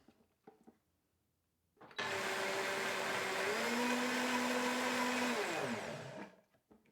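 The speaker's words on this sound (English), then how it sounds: "And I'm going to blend that up." An OmniBlend kitchen blender starts up and roars steadily, blending raw cacao powder, coconut sugar and macadamia butter, its motor pitch dropping and rising mid-run before winding down near the end, with no talk over it.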